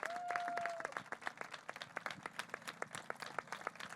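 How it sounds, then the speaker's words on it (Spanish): A political gathering in Moratalaz, Madrid, welcomes Mónica García with applause, a smaller crowd clapping in distinct, fairly quick sharp claps, with a brief tonal whistle-like sound near the start. "a quien le paso la palabra con un enorme aplauso"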